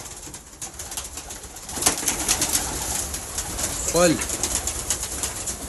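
Blue bar homer pigeons cooing nearby, a soft rolling coo rising clearly around the middle, over a busy background of rustling and a brief voice.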